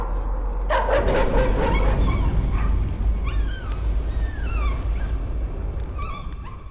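Dogs in the horror video game Layers of Fear, loud barking that gives way to high whimpers and whines over a steady low drone.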